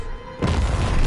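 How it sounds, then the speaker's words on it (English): A grenade goes off in Call of Duty WWII with a sudden deep boom that swells into a loud, rumbling roar after a quieter moment. "throwing goddamn grenades everywhere"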